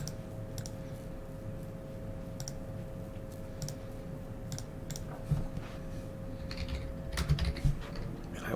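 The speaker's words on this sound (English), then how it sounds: "Man, I love my new keyboard." Steady typing on a new, inexpensive computer keyboard, with quick clustered key clicks at a moderate distance, heard alone without speech.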